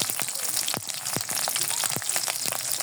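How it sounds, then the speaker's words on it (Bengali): Chopped onion and green chilies hitting hot oil make a steady, close sizzle dotted with irregular crackling pops throughout, with no talking. "তেলটা গরম হতে দিলাম এখন আমি দিয়ে দেবো বড় একটা পেঁয়াজ কুচি আর চারটি কাঁচামরিচ কুচি"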